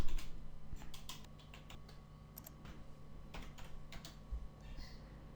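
Quiet, close clicking of a computer keyboard as someone types login details, quick irregular keystrokes with a few louder taps over a faint background hum.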